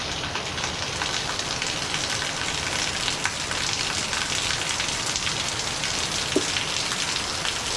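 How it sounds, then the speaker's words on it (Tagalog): Heavy rain pours steadily beside a waterfall in the Philippines in a dense, continuous hiss, close and loud, with no voices over it. "Grabe ang lakas talaga ngayon guys ang ulan."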